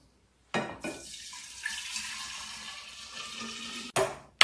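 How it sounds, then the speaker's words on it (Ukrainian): Alcohol solution poured over gin infusion ingredients in a jar, a steady liquid splash and trickle running for about three seconds between two short knocks of handling, close and alone. "Ну і тепер заливаємо їх нашим спиртовим розчином."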